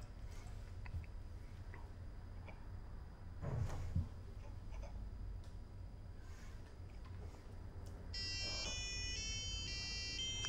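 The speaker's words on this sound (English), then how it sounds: "We could do it with our own clip wires and a buzzer." A small piezo buzzer wired to a micro:bit with clip wires beeps a quick series of high, shifting tones near the end, after quiet handling noises and a brief clatter.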